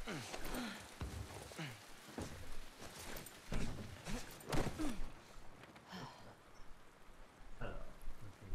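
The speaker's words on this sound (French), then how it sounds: "On va se protéger de la pluie." Rain in The Last of Us Part II video game, a soft steady patter under spoken dialogue and breathy vocal sounds.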